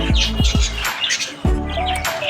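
Several sharp, close budgerigar chirps in quick bursts, with a short pause before a final harsher call; small caged budgerigars chattering nearby.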